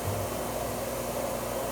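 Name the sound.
vacuum engaged on screen printing press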